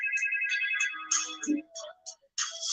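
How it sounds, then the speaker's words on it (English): A phone ringtone plays in a repeating electronic pattern, loud and close, with a brief voice-like break midway and a few gaps before the ringing resumes at the end. "I'm not answering the phone this time"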